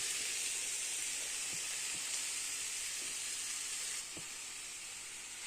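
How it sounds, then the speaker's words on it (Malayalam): Cut strawberries sit in a hot pan for jam, giving a steady, even sizzling hiss with a few soft taps, and the hiss drops slightly partway through. "പാൻ അടുപ്പത്ത് വെച്ച് ചൂടായിട്ടുണ്ട്. അപ്പോൾ അതിലേക്ക് നമ്മൾ ഈ മുറിച്ച് വെച്ച സ്ട്രോബെറി ഇടണം."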